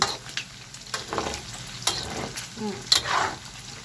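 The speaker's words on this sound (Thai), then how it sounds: "ไฟอ่อนแล้วคั่วไปเรื่อยใจเย็น ๆทำกากหมูต้องมีเวลานะคะ" Pork fat frying into cracklings over low heat, a soft sizzle with repeated scraping stirs and a few louder clinks and pops, heard close with no talking.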